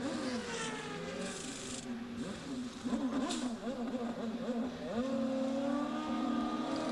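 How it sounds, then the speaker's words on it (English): A CART race car's engine revs up during a pit stop at the 1999 US 500, climbing and rising in pitch as it warms, with a commentator talking over it and other track noise nearby. "as the revs come up"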